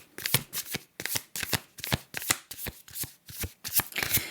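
Tarot cards shuffled by hand in a quick run of about a dozen crisp riffling bursts, close and fairly loud, with no talk over them.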